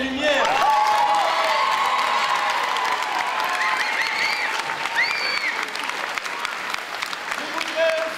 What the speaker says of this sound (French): je voudrais qu'on applaudisse très fort Julien pour le son et Bruno pour les lumières.